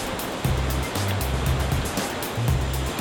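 Gushing river water in Samar rushes as a steady, loud, broadband wash of strong current, with low churning pulses rising and falling through it and no voices.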